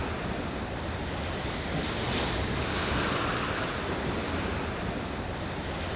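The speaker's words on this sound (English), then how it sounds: "Or the crashing sound of waves?" Ocean waves in the video game Rune Factory: Oceans wash in a continuous, even roar of surf, a dense and steady ambience with no distinct breaks and no talk.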